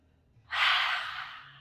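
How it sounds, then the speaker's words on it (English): A single deep, breathy exhale during a power yoga session, starting abruptly, close and airy, then tapering off slowly. "2 deep breaths."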